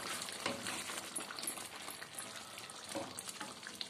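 Aloo curd curry, potatoes in a yogurt gravy, sizzles and fries in oil in a pan, making a quiet, steady crackle with faint stirring swells.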